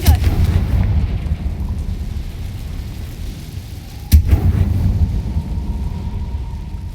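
Confringo fire spell blast in Hogwarts Legacy, a sharp explosive crack midway with a booming rumble after it, over a steady low roar of game background.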